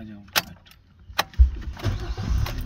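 A car starts up to turn around: two sharp clicks and a jangle come first, then the engine catches with a low thump and settles into a rough, rumbling idle close by.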